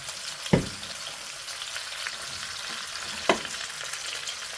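Vegetables fry in a pan as carrots are added, a steady soft sizzle with two sharp clattering bursts as pieces drop in and are stirred.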